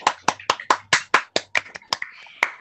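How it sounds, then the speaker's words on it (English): About a dozen sharp, close hand claps at a virtual Pride Month school assembly, in a quick, slightly uneven rhythm that slows toward the end, sounding like one or two people clapping. "Let's give a big round of applause for Alexia."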